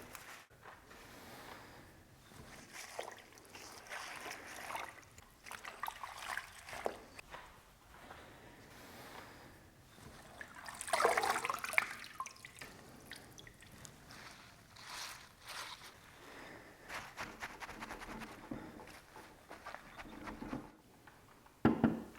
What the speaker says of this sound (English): let's give that wild garlic a really good wash.